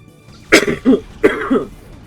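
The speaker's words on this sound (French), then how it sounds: "La toux m'a emporté." Two pairs of close, harsh coughs in quick succession, each pair a sharp hack followed by a second.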